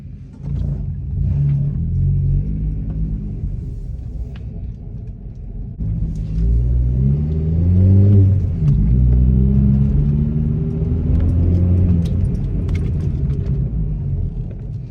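A car with an aftermarket exhaust rumbles deep and steady from inside the cabin, windows up, swelling as it accelerates and settling back, with a throaty exhaust note and no talking.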